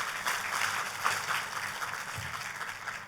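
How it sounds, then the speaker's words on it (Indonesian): A church congregation claps and applauds in a steady, moderately loud burst of mixed hand claps that fills the room and continues throughout. "kalau mau tepuk tangan yang paling meriah"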